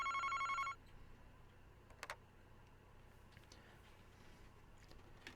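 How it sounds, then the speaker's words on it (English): A telephone rings at the Utsugi Detective Agency in the Famicom Detective Club video game, a loud electronic trilling ring for under a second that then cuts off, leaving quiet room tone with a couple of faint clicks. "Then one fateful morning, the phone rang at Utsugi Detective Agency and a horrifying case began."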